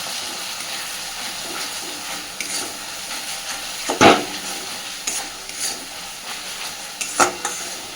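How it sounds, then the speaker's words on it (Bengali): Masala spice paste is stirred and fried in a pan with small splashes of water for aloo dum, giving a soft steady sizzle and hiss with occasional scraping clinks of the spoon, close and fairly quiet. "মশলাটা কষতে থাকবো। একটু করে অল্প অল্প করে জল দিয়ে দিয়ে যে কোনো রান্নায় মশলা কষালে"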